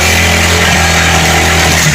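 A loud motorcycle engine runs close by, holding a steady, deep, even drone for the whole stretch with no voices over it.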